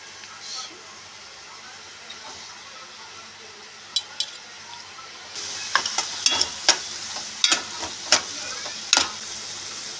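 Tomato pieces are stirred into ginger garlic paste in a hot pan, a soft sizzle under repeated sharp scrapes and clinks of a spoon against the metal, with a quiet stretch before the stirring starts.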